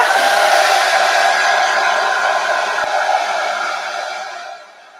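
A hair dryer blows steadily over wet distressed paint on furniture, a loud, close, even rushing whoosh that runs for several seconds and then fades as it is switched off, with no talking.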